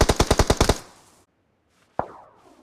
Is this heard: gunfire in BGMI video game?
yes